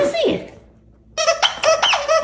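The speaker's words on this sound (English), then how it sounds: "Oh, that's a good squeak." A squeaky toy dragon gives several sharp, high squeaks in quick succession after a short pause, loud and close, with a person's voice at the start.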